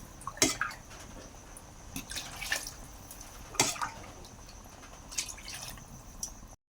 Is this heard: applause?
no